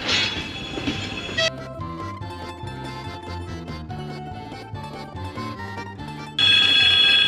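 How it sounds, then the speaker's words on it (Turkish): A train moves along the railway in Murmansk, Russia: sustained metallic tonal squeals and rolling clatter, louder at the start and swelling again at the end, with no talking. "Getirip yolun ortasına koydular treni."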